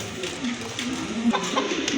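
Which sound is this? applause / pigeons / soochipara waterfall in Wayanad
pigeons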